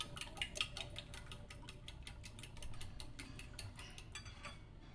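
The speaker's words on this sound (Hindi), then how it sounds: "अब हम इसको एक फोक की मदद से फेंट लेंगे, इसको मिक्स कर लेंगे" A fork whisks beaten eggs with a pinch of salt in a bowl, making a quick, steady run of light clinking taps against the dish, close and alone with no talk.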